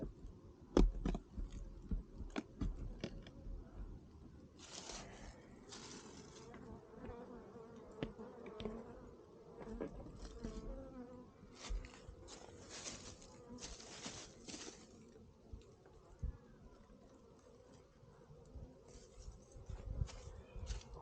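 Honey bees buzz in a soft, continuous drone close by at an open hive, with occasional louder passes and faint knocks and rustles near the hive.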